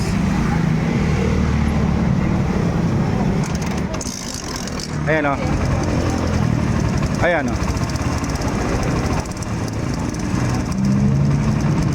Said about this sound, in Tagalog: umahataw po yung piston niya sa housing ng carburetor